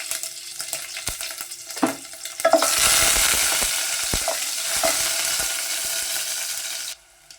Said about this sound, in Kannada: ಬೆಳ್ಳುಳ್ಳಿ ಫ್ರೈ ಆಗ್ತಿದ್ದಂಗೆ